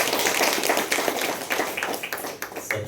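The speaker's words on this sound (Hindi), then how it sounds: "बजाओ बहनों के लिए ताली" Audience claps for the sisters at a spiritual gathering in a hall, a dense burst of applause that holds steady briefly and then thins, fairly close and without talk.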